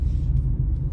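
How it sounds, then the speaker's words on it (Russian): A loud, noisy car rumbles past on a night street in Tbilisi's Isani district, a heavy, steady low engine drone close by. "вот эти вот шумные машины"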